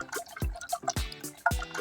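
Sattu sherbet, an Indian street drink, is stirred with spices, making three close, soft liquid plops and splashes with light clinks between them.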